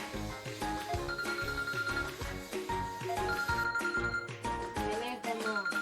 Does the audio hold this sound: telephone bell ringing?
yes